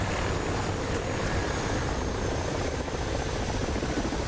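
Mi-24 Hind attack helicopter in a combat video game, a steady, loud rotor and engine roar that holds without a break and without speech.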